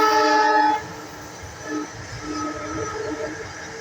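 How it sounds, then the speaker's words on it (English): A SEPTA GE Silverliner IV electric commuter train at Jenkintown station sounds a loud, harmonic horn blast for under a second, then its lower rumble continues as it moves along the track. "Just hearing that horn just does not sound well."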